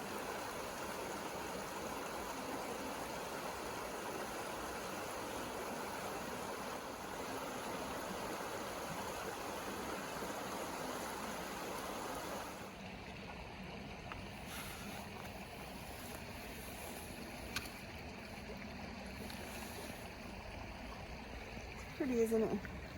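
The Eno River flowing as a steady broadband rush, close and continuous, easing slightly partway through with faint clicks and a brief voice near the end.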